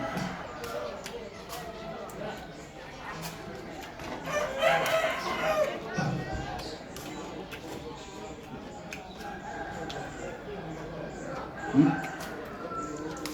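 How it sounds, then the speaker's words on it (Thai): A rooster crows in the background, fairly faint, while people talk nearby. "โอ้เสียงไก่เนาะก็เสียงไก่ธรรมชาติอีเดีย เสียงไก่ของห้อง"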